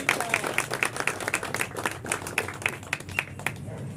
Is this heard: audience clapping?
yes